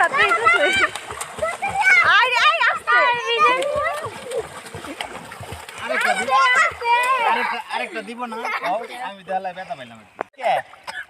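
Children swim and splash in a village pond. The water sounds sit under nearly constant excited children's voices talking and shouting close by.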